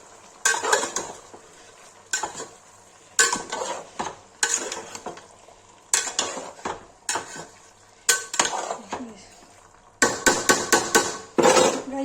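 Chicken and curd stirred in a pan for a Kashmiri chicken masala, with repeated bursts of utensil scraping and clanking against the metal pan in an uneven rhythm, close and fairly loud, under a faint sizzle.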